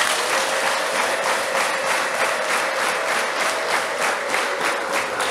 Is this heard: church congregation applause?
yes